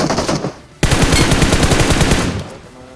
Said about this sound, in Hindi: फिर ये स्क्वाड हाउस के ऊपर एक बंदा गोली चलाता है।